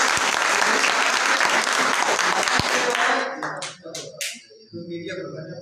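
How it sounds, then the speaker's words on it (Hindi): Loud crowd applause at a Bhim Army village meeting in Nandkheda rolls on for about three seconds, then breaks into a few scattered, fading claps and a little background murmur. "भाई के लिए बहुत जोर तालियां"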